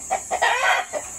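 Farm chickens cluck in a few short, close bursts, with a rooster's crow-like call in the middle, all in under two seconds.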